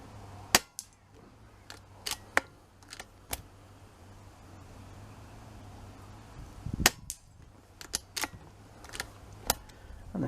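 Rifle shots at an outdoor long range shooting complex in strong wind, a series of sharp, loud single cracks spaced irregularly, some close together, over steady wind rumble.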